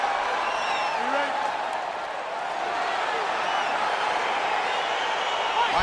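A crowd of fight spectators in the video game UFC 4 roars in a steady, dense wash of cheering and clapping as the bout begins, with a commentator talking over it.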